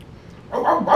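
A small dog gives two short, bright barks close by, after a quiet lead-in.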